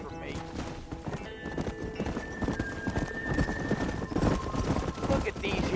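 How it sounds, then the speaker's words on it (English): Horses trot in Red Dead Redemption, a dense run of hoof clip-clops under music and other game sounds, steady and fairly close, with faint voices mixed in. "Look at these here horses"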